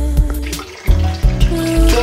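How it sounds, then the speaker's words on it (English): Water drains through a sieve from soaked peanuts in a kitchen, a close splashing trickle with short metallic clinks and tonal rings from the sieve and bowl. "So let's sieve out the water."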